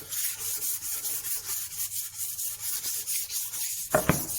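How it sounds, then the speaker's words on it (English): Rhythmic back-and-forth strokes of 400 grit sandpaper rubbing over the corners of a wooden bread board, steady and close, with a couple of brief knocks near the end and no talking. "400 grit sandpaper, just all over, around these corners"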